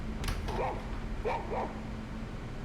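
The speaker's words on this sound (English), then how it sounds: "dog starts to growl toward the kitchen for no reason" A dog growling indoors in a house where a robot vacuum is rolling: two brief, low, whiny vocal rumbles over steady background hum, fairly faint and with no talk.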